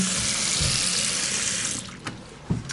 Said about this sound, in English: Again, terrific hot water pressure. It's draining nicely.